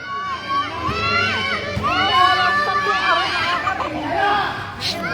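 Children shout and cheer excitedly at a ball game, many high voices yelling in overlapping bursts from a lively crowd, fairly close and continuous.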